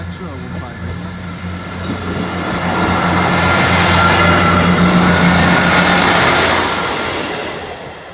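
A Class 158 diesel multiple unit passes on a single-track line, its engine rumble and wheel noise swelling to a loud peak and then fading as it goes by outdoors.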